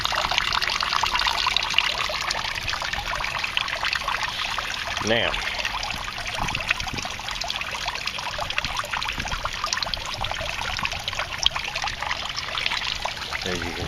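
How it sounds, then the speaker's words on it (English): Water drains and bubbles steadily into an aquaponics fish tank through a homemade bell siphon and PVC pipe, making a continuous close trickling and gurgling, while a voice briefly speaks over it. "the water drains in, all those bubbles comes up"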